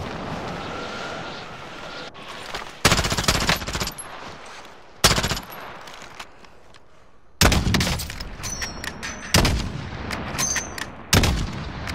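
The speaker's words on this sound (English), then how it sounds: "the shots seem way closer than they actually are." Gunfire in the video game Warzone: bursts of rapid shots and single cracks that vary from near to distant over a steady battlefield rumble, with no talking.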